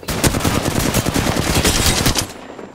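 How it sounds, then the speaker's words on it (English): Loud automatic weapon fire from the Apex Legends arena mode rattles in rapid continuous bursts for over two seconds, then cuts off abruptly. "I am taking fire."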